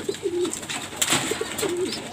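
Pet pigeons coo in two soft rolling phrases close by, with a brief flutter or scuffle between calls.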